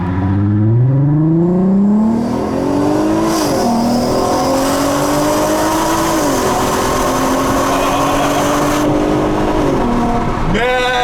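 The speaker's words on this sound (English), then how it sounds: "The noise that this car makes, you know, unlike any other V6" A 2008 Volkswagen R32 with a V6 engine revs hard while driving, its loud, deep engine note rising in pitch through several gear changes with brief dips between shifts, continuous and close throughout.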